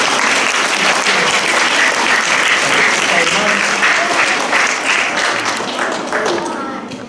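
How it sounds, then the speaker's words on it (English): Loud, sustained round of applause from pupils and staff at a school celebration assembly, many hands clapping densely before tapering off toward the end, with faint voices mixed in. "Can we get a nice big round of applause for Andra?"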